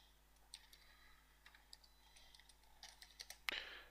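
Fingers typing on a computer keyboard, a quiet, uneven patter of separate key clicks close by that speeds up into a short burst near the end, with no voices.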